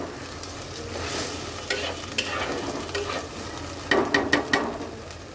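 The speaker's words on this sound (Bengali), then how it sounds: "তো চলো এটাকে এখন সুন্দর করে একটু ভাজা করি।" Spices frying slowly in oil over low heat for a fish roe bhuna, a steady close sizzle with stirring scrapes throughout and a burst of louder crackles and clinks near the end.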